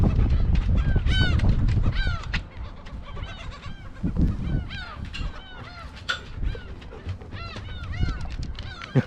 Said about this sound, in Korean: 갈매기가 더 많이 왔어 이제